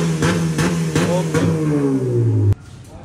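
A Honda Civic with a cutout exhaust revs in several sharp, loud blips that rise and fall, then the engine note drops and cuts off abruptly into quiet.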